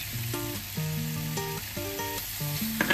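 Sweet and hot peppers fry with softened onion in a pan, giving a soft, constant sizzle partly masked by a louder tonal melody playing over it.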